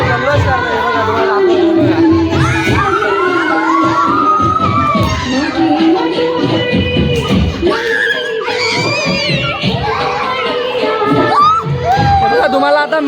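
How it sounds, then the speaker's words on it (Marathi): Children shouting and cheering together at an outdoor Kojagiri Purnima full-moon celebration, a loud continuous jumble of excited voices and whoops with adult chatter mixed in. "आज बघा पोरं जल्लोष करतोय"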